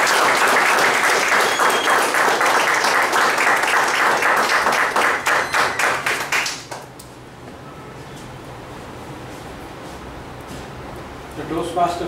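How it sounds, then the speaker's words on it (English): An audience at a Toastmasters meeting gives a big round of applause, dense close clapping that fades out after about six seconds, leaving quiet room tone. "let us welcome this linguistically intelligent person, Mr. Ramesh, with a big round of applause."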